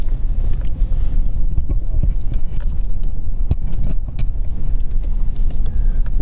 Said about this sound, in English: It's a little windy out there.